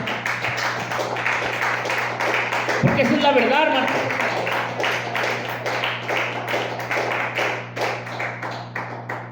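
A church congregation claps in praise to the Lord Jesus, dense rhythmic applause filling the room while a preacher keeps talking over it.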